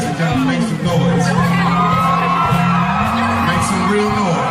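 A stand-up comedy audience cheers, whoops and yells loudly and without a break, a dense roar of many voices with shrill whoops rising above it, close and sustained from start to finish.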